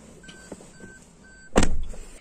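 Central locking on a Maruti Suzuki Baleno, operated from the key: several short mechanical clicks followed by a louder, longer clunk of the door locks actuating, up close.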